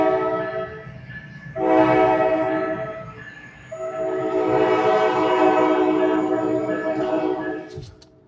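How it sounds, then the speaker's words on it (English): An American train rolls past near New York City, its loud horn sounding in two long blasts with a short gap between them, close and powerful over the rumble of the rail cars. "That's a train that's coming from New York City."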